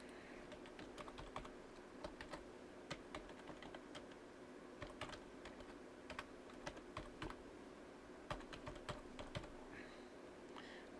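Rapid, uneven keystrokes on a computer keyboard while entering a business email address, close and clear with steady background hum and no talking.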